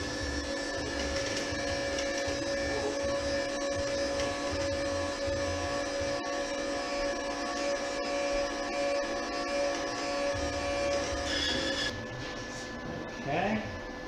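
Wire feeds out of the gun tip of a Vevor 270A MIG/MMA/TIG combo welder: a steady, quiet motor whir runs for about twelve seconds, then cuts off and leaves a faint room hum.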